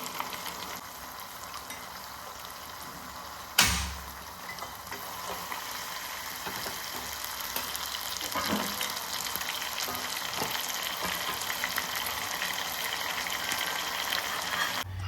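Ghevar batter frying in hot oil inside a ring mould, a steady soft sizzle with faint crackle throughout, one sharp clack early on and light stirring or tapping noises near the end.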